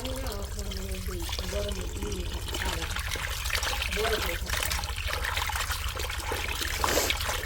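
Cold water pours steadily to wash fish, a close, continuous trickling stream running the whole time, with a voice talking briefly over it at the start.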